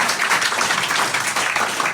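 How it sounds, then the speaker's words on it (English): An audience claps steadily at a live comedy feature in a small London theatre, a dense, continuous patter of many hands close by with no talking over it. "Just clap while they pass the eggs around."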